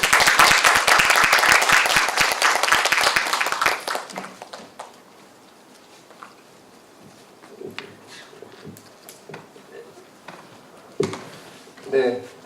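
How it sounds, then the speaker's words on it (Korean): Audience applause welcomes a professor to a special lecture at a Yongsan Park roundtable in Korea. Loud, dense clapping lasts about four seconds and fades into room noise, with a few scattered sounds afterward. "박수로 맞이해 주시기 바랍니다."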